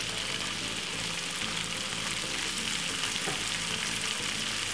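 Garlic prawns with white onion frying in a pan, a steady, even hiss and sizzle of hot oil that holds at the same level throughout, close and unbroken with no talking.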